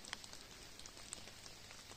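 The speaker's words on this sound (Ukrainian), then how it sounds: "тиша в лісі. Тільки дощ капає." Light rain drips in a quiet, foggy late-autumn forest in the Carpathians, a very faint scattered patter of soft ticks over near silence.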